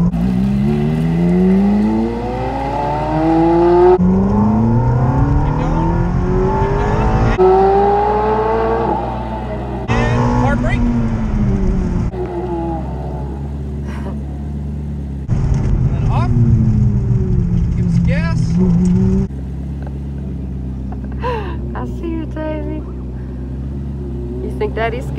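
A Ferrari F430 accelerates hard at full throttle in repeated bursts, rising engine pitch through several gear changes, loud and close with cabin voices between pulls.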